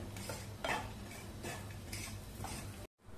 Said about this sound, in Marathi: चांगलं परतवून घ्यायचं आपल्याला हे सारण